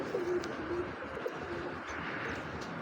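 A female racing pigeon coos softly and steadily in a loft, low and somewhat distant, against a constant background hiss, with faint chirps from other birds.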